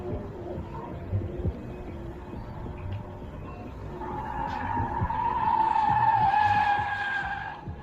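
A Ford Mustang Mach-E GT electric car does a tire burnout at an outdoor expo in Miami, its rising tire squeal and skid swelling from a background crowd murmur to a loud, sustained screech.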